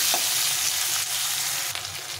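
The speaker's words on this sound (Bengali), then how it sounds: "আলুটা একটু ভেজে নেবো প্রথমে।" Potato pieces fry in a pan of oil with cumin seeds, producing a dense, even, close sizzle with a few soft stirring knocks and no voices.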